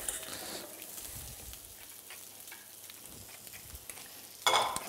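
Duck confit, lightly browned, frying with shallots and garlic in a pan gives a steady soft sizzle and crackle with some stirring, fairly faint and even, with a louder burst near the end.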